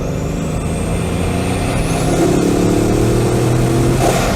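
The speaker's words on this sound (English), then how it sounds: "When you accelerate more, you really get the intake of the engine." Bugatti Chiron accelerating, its engine intake rising in pitch with a deep mechanical drone building louder midway, heard from inside with no talking.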